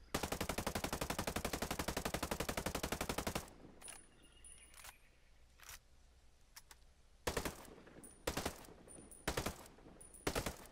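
A 416 Shorty assault rifle in Ghost Recon Breakpoint fires a long full-auto burst of rapid, evenly spaced shots, followed after a pause by several separate single shots, loud and close.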